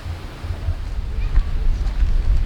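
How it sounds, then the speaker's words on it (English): Strong wind on a lakeside walk at a nature reserve buffets the microphone in loud, gusty rumbles that rise and fall throughout. "I know it's a very windy day."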